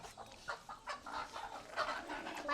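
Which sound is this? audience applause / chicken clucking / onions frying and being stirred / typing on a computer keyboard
chicken clucking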